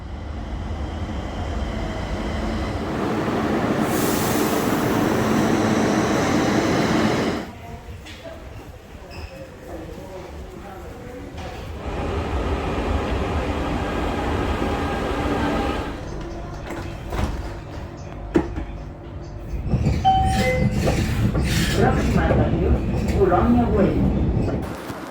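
Long train ride into the outskirts of Barcelona: a loud, steady rail rumble and rattle that drops quieter midway, with a brief door-like slide, before the heavy rolling noise returns near the end.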